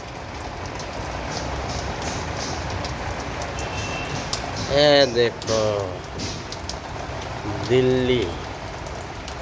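Steady heavy rain falls on a summer day in Okhla Phase 2, Delhi, a dense constant hiss throughout, with a voice speaking briefly twice over it.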